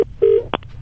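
A telephone keypad sends a short dial tone, a sustained tone and then a brief burst of tones, all close and clear with no talk over them.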